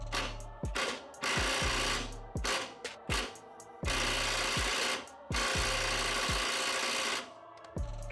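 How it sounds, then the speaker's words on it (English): An impact wrench hammers at the bolts on a Honda Acty in several loud, rattling bursts of one to two seconds each, with short gaps between them and no talking. "So there's these two bolts. So we'll see if this impact"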